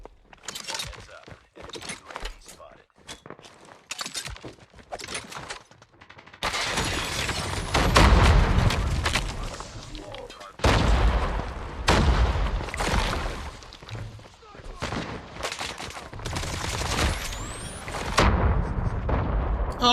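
Loud, sustained gunfire and explosive booms from the mobile shooter COD Mobile, starting with scattered shots and then building into dense volleys with short gaps.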